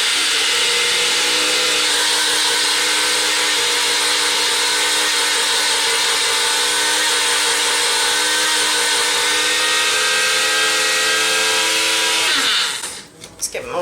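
A countertop blender mixes gluten-free vegan pancake batter with a loud, constant motor drone lasting over twelve seconds, then abruptly winds down and stops, leaving brief rustling.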